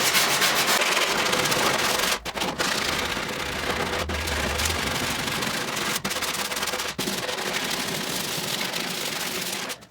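Continuous abrasive rubbing of sandpaper working blobs of epoxy off a wooden veneer boat deck, steady and close, broken by a few brief pauses.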